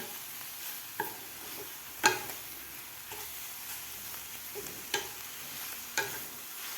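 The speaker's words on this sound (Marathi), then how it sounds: "आता मीठ घातल्यानंतर व्यवस्थित आपल्याला ही भाजी हलवून घ्यायची आहे" Fenugreek greens being stirred in a pan after salt is added, with a soft background sizzle and a handful of spaced, sharp spatula scrapes and knocks against the pan.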